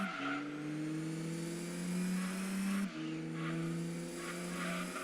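A Peugeot 206 races past a Plymouth in Gran Turismo 2, its engine whining steadily upward, dropping at a gear change and climbing again, with faint tyre noise underneath.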